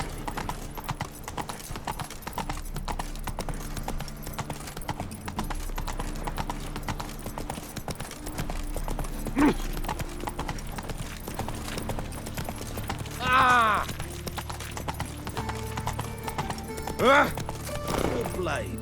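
Geralt's horse Roach in The Witcher 3 gallops with steady hoof clopping under continuous game music, as voices speak over it and a couple of brief whinny-like sounds stand out.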